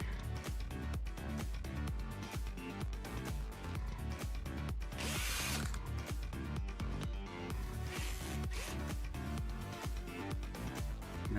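A power tool fastens a muffler and other car parts in the Car Dealer Simulator video game, with steady rhythmic whirring and two louder broadband bursts partway through.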